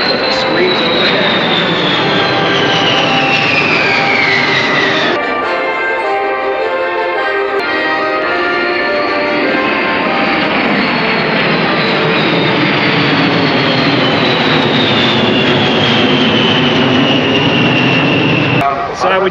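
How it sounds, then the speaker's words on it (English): Boeing B-52H Stratofortress with eight Pratt & Whitney TF-33 engines passing overhead at an airshow, a loud sustained jet roar with a falling whine that swells and fades, crowd and voices faintly beneath. "you could actually see that thick black exhaust from 8 Pratt & Whitney TF-33 engines as it screams overhead."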